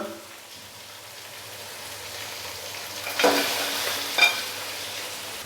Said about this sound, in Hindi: तो अभी मैं इसके अंदर बॉयल किया हुआ बीफ डाल दूंगा